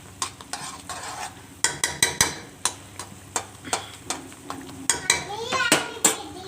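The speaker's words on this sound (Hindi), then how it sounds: "इसको कुक होने के लिए छोड़ देना है कि ये मसाला अच्छे तरीके से भुन जाए" Masala for a beef kofta curry fried in oil in a pan, a steady sizzle under brisk, rhythmic spoon scrapes and knocks against the metal, close and fairly loud throughout.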